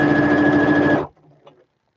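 A sewing machine stitches a seam in a loud, fast, steady whir for about a second, then stops abruptly, leaving faint handling noise.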